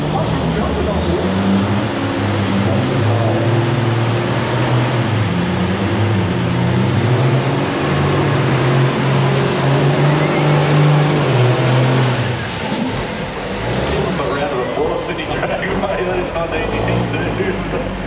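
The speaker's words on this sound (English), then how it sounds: "Of course, trucks are coming out another couple of times." Big rig trucks drag racing down the strip at Sydney Dragway, a loud sustained engine roar filling the whole stretch, easing slightly toward the end.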